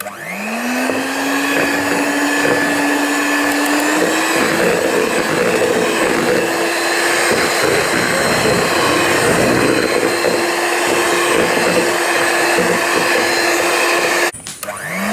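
Electric beater whirring continuously while mixing dalgona cake batter, loud and close, its pitch rising quickly at start-up then holding steady with a slight step up before it cuts off near the end.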